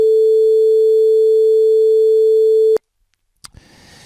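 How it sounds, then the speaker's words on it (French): A pure 440 Hz sine wave tone sounds steadily and loudly for nearly three seconds, then cuts off abruptly into silence, followed by a faint click and low hiss. "je vais vous faire entendre déjà ce son solo à 440."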